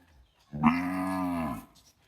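A Gujarati Gir heifer gives one clear, sustained moo lasting about a second, close and alone against a quiet background.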